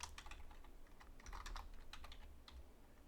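Quiet, close typing on a computer keyboard, a quick irregular run of light key clicks over a low background hum, with no talking.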